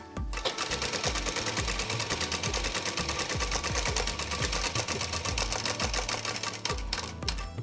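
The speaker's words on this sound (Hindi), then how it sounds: "साइड के भाग में हमें डबल फोल्ड पे सिलाई करनी है, तो हम हिप तक की सिलाई करेंगे" A sewing machine runs steadily for several seconds, stitching a double-folded side seam on a kurti with a rapid, even mechanical chatter close up.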